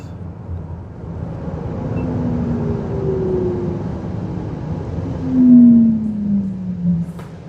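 A Mahindra BE6 electric car braking hard from 150 km/h, heard from inside the cabin as a steady loud road and wind roar with a falling electric motor whine that swells briefly as speed drops.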